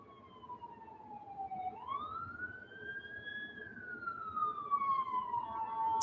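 An emergency vehicle siren wails outside in a slow rising and falling sweep, fairly distant and faint, over a low background hum.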